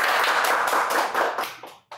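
Audience at a panel discussion on basic income claps steadily in a dense, close burst of applause that thins out and fades near the end.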